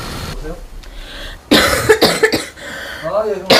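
A woman coughs hard several times in a rough burst, preceded by quieter talking and a few vocal sounds.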